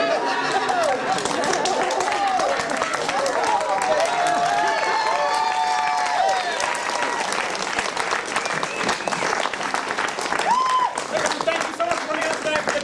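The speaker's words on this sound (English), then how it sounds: "A big round of applause for Celebrity Soap Box." An audience at the opening night of a comedy festival, for Celebrity Soap Box, claps loudly and continuously, with scattered cheers and voices mixed into the dense applause.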